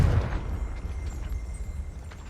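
A Confringo spell explodes in the Hogwarts Legacy video game, a short low boom up front that rumbles away into a fading crackle.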